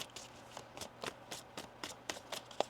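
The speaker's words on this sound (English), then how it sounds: "1 more shuffle here." Tarot cards being shuffled by hand, a quick series of about a dozen crisp riffling bursts in a steady rhythm, close and fairly soft, with no talking over them.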